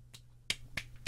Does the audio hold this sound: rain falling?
no